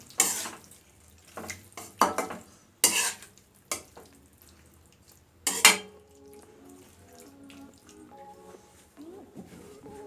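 Vegetables for pepper steak, including white onion and green pepper, stirred and tossed in a sizzling pan: several sharp clanks of utensil on metal in the first half, then softer frying and stirring with quieter scrapes toward the end.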